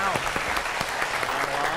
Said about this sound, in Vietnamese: Phèo ơi, vỗ tay nào